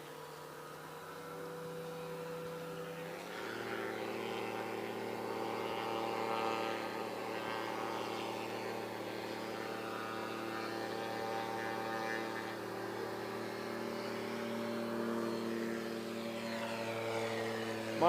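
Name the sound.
Badlands Traveler STOL aircraft engine spooling up for takeoff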